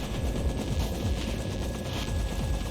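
Helicopter rotor thumping steadily in Far Cry 3 gameplay, a continuous loud churning whine with dense rumbling beneath, mixed with crackling bursts that may be gunfire.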